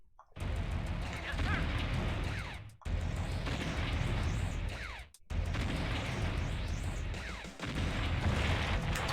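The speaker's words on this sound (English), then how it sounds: "The artillery kind of took its time destroying that" Artillery shells pounding a building in the strategy game C&C Red Alert, a dense, continuous roar of booms and crashing debris in repeated bursts, with two brief gaps, loud and close throughout.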